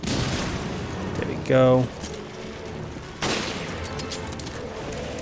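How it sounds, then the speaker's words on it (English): Grenade blasts in Resident Evil Revelations Raid Mode: one broad burst near the start, then a second heavy boom around the middle with a rumbling tail, mixed with a short tonal game chime and a brief spoken phrase. "I can just throw some grenades at them."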